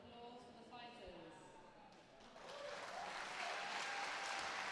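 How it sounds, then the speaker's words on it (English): An audience at a live swordfighting tournament breaks into applause for the fighters, swelling from under a speaking voice into a steady, dense clapping that grows louder at the end. "A round of applause for the fighters."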